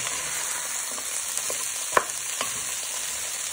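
Chickpeas frying in oil with onions, garlic and chorizo, a steady soft sizzle throughout with a few faint scrapes of stirring and one sharper clink of the utensil against the pan.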